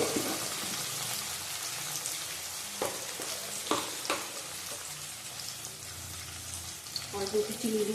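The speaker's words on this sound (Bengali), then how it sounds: "পেঁয়াজ ভেজে নেবো।" Onions frying in a pan for a yogurt chicken dish, a faint continuous hissing sizzle with scattered stirring clicks and scrapes throughout.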